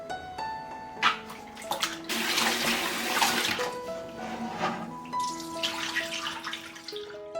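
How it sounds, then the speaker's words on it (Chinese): Pork intestines are scrubbed by hand with starch and rice vinegar under running tap water, with splashing, rushing flow and wet squelching handling close up, along with faint clinks. "加入1大勺淀粉，多一点的米醋，然后里里外外给它抓洗干净"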